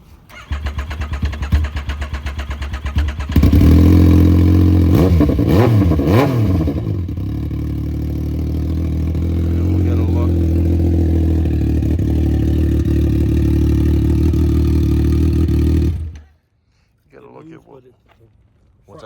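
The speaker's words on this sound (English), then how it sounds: "it's going to be a 2019 Yamaha MTT motorcycle" A 2019 Yamaha MTT motorcycle with a broken-off front brake handle, at a police towing auction, cranks with clattering bursts, catches and revs, then idles loudly and steadily for about ten seconds before cutting off abruptly, with people talking nearby.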